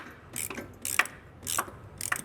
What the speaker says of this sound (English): So now I can go ahead and tighten that nut down.